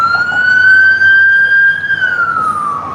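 An ambulance siren wails loud and near in a single sustained, slowly rising and falling tone over a low road rumble, with no talk.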